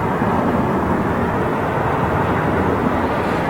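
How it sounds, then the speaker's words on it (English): A Singapore Airlines Boeing 777-300 at London Heathrow gives off a loud, sustained broadband jet roar, steady and close, with no voices over it. "Beautiful Singapore Airlines 777-300"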